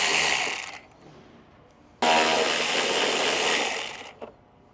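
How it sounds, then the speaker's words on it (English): A 10mm socket on a power driver loosens the screws on the factory hood scoop of a Ram 6.7L Cummins, two bursts of steady whirring broken by a short pause, close and loud. "We're going to use a 10mm socket and we're going to go ahead and loosen them."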